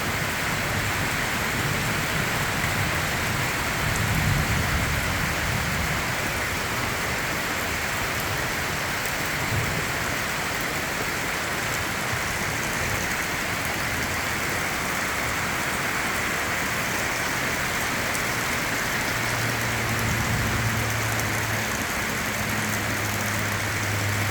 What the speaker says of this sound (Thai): ฝนกำลังมากแล้ว